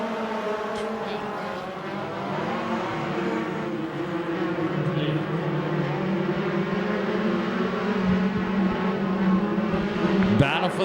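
USAC/CRA sprint cars race down the front straight at Bakersfield, California, a steady layered engine drone with rising and falling pitches, a commentator speaking over it and a sharp burst near the end.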